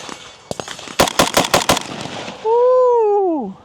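An FB Radom Mini Beryl rifle fires outdoors, a sharp single shot followed by a rapid burst of about six loud, close reports. A clear descending tonal whine follows the shots.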